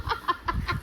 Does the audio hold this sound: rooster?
yes